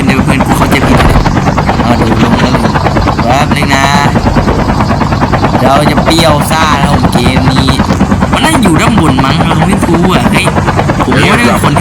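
Helicopter in Call of Duty Warzone Mobile, a loud continuous rotor thrum dominating throughout, with bursts of gunfire and someone talking over it.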